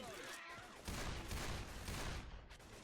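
Gunfire in the Left 4 Dead video game, a quick muffled flurry of shots and impacts heard faintly in the background of game audio.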